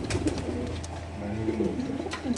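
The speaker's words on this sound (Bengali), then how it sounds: "খুব সুন্দর কবুতর" Domestic pigeons at a pigeon farm coo in soft, repeated throaty phrases, several birds overlapping close by against a low, steady background hum.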